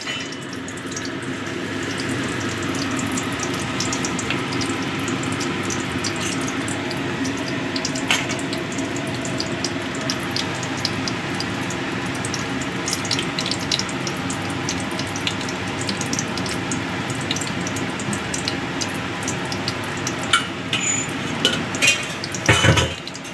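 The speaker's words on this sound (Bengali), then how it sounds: "যেহেতু ব্যাটার দিয়ে এটা ফ্রাই করা হচ্ছে।" Batter-coated food deep frying in a pan, giving a dense, steady, loud sizzle that runs throughout, with occasional clinks of utensils and no talking.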